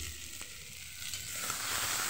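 Chopped tomato goes into hot oil with ground chilli and a dried red chilli for a fish curry with drumsticks, giving a close, steady sizzle and frying hiss that swells slightly, with no talk.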